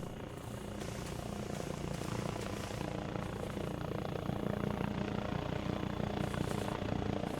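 A helicopter in the military video game Arma Reforger flies overhead, its loud rotor and engine roar steady and close throughout, filling the whole stretch without pause.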